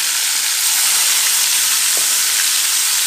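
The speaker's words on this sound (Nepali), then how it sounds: "जुन म्यारिनेसन गरेर राखेको चिकन छ त्यसलाई फ्राई गर्दैछु।" Marinated chicken for butter chicken frying in hot oil, giving a loud, dense, steady sizzle that fills the short stretch close up, with no talking.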